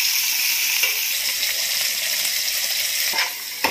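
Tomatoes and curry leaves fry in hot oil for mushroom biryani, a steady dense sizzle filling the whole stretch, with a couple of short sharper pops near the end.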